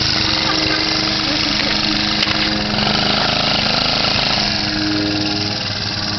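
A small engine runs steadily after the choke is put on, a rough, droning mid-pitched idle that holds close and loud throughout, with a few faint clicks on top.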